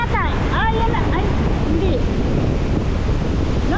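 Wind buffets the microphone at a seaside shore with boats nearby, while waves wash in a continuous rough rush; brief voices and bird-like chirps sound faintly in the background.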